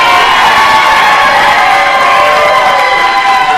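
A loud wrestling crowd at a live show cheers and shouts continuously, a dense roaring wall of voices with whoops mixed in, close and sustained throughout.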